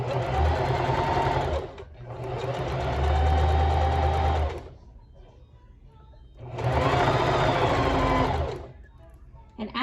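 A sewing machine stitches elastic for a romper in two long, steady bursts, running loud and close with a short stop between them and a quieter pause before the second run.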